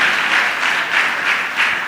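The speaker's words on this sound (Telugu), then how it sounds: "చప్పట్లు కొట్టి దేవుని స్తుతిస్తాము." A church congregation claps in praise during a sermon, a loud, dense crowd of hands swelling in a steady pulse roughly every half second, with no voices over it.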